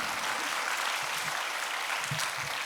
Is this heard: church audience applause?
yes